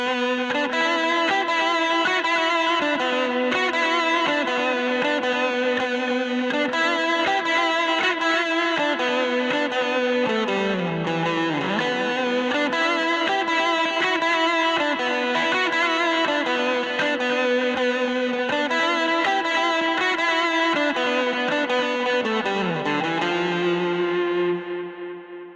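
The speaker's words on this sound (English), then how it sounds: "I also used a Echo Rec plugin from Pulsar after the fact to create more of that washy delayed tone." Electric guitar through a Vox AC15 amp with added washy delay, playing sustained, slightly distorted notes and chords that slide and ring with echoing repeats, loud and continuous before fading out at the end.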